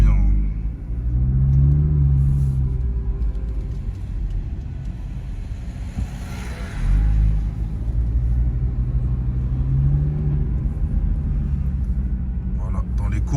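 An Audi RS3 engine drones and rumbles from inside the cabin while driving on the road, swelling a few times under light acceleration with steady road noise, and someone talks over it.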